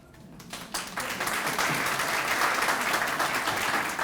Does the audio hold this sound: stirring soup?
no